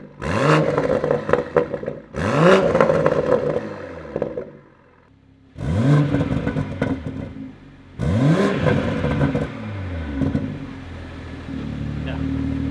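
Toyota Supra MK5 fitted with a Valvetronic Designs exhaust revving: four sharp, loud blips, each falling away quickly, with short quiet gaps and a low idle rumble between them; voices can be heard over the engine.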